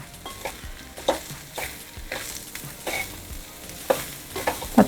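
Semolina and mixed vegetables roast in a pan over a medium flame for upma, with a steady soft sizzle and rhythmic spatula scrapes and knocks, close up and without any voices.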